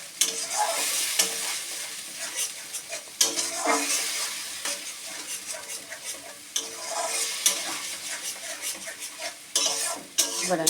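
Onion-tomato spice paste with fried cumin being stir-fried in a pan, a steady close sizzle broken by repeated scraping stirs and occasional utensil knocks against the pot, with no talking.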